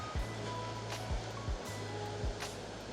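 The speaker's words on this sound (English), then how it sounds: "Let me show you the waterfall." A waterfall on the Mount Rinjani trek in Lombok gives a steady, broad rushing roar, punctuated by a few soft, regular low thumps.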